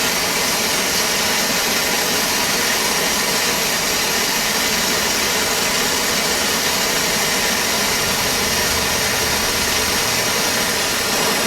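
Oxy-acetylene rosebud torch heating a steel early Ford Model A steering arm in a shop: a steady, loud, continuous roaring hiss of burning gas throughout, with no pauses or talk.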